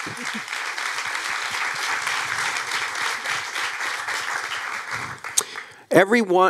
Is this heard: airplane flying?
no